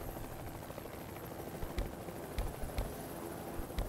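A plane flies over in the Project Zomboid zombie survival game, a continuous rumbling engine drone with faint thudding pulses and no voices.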